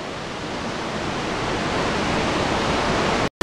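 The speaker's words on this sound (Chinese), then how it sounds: "这个水，雪水非常的清澈，瀑布奔腾而下" Nevada Fall in Yosemite, fed by clear snowmelt, roars as a dense, unbroken rush of falling water, loud and close, with one brief dropout near the end.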